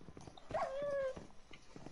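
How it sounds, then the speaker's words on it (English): A Minecraft dog gives a short, sharp, clear bark or whine in the middle of otherwise quiet game sound, a brief and moderately loud animal call. "You fool, I have a dog."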